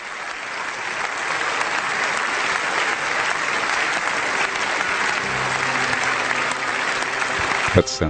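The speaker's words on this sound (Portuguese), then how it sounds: "ele é aplaudido com o parlamento de pé" The German parliament gives a standing ovation, with dense, sustained clapping from a large seated assembly that continues unbroken for about eight seconds.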